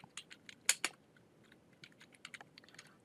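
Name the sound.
pressing a key on a computer keyboard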